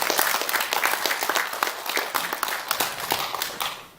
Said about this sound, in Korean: 소개합니다. 박수.